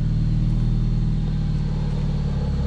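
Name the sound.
Mazda Miata with new mid pipe exhaust backing out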